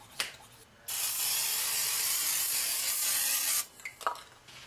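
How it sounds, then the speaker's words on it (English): Olive oil cooking spray applied to bread before toasting, a single close continuous hiss of nearly three seconds, with light handling taps before and after. "I'm going to use a little bit of my olive oil cooking spray just so that it'll toast up"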